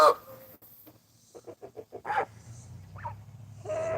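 A rooster named Teriyaki, kept with geese and chickens, gives a run of short rhythmic clucks close by, followed by a few louder squawky calls; no speech in between.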